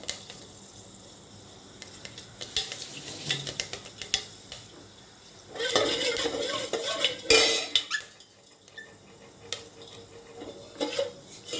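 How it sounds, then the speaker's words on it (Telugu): Fenugreek seeds frying in hot oil in a pot for a vegetable pulusu, with a soft sizzle beneath repeated clinks and scrapes of a spoon and utensils, busier stirring in the middle; no talking. "ఫెనుగ్రీక్ సీడ్స్ బాగా వేగాలి."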